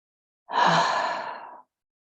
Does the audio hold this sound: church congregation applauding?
no